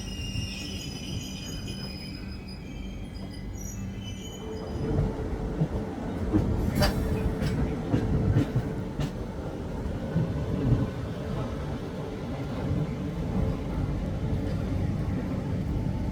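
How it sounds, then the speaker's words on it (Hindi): An Indian express train pulls out of Ghazipur station, with a steady low rumble of carriages, rising wheel clatter and a few faint metallic squeals throughout, heard from inside the coach. "क्लियरेंस दे दी, अब ट्रेन चलने वाली है।"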